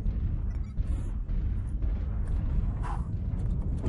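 A missile explosion in a MechWarrior video game, a deep, rumbling blast with a long low roar and scattered crackling debris, heavy and sustained with no talk over it.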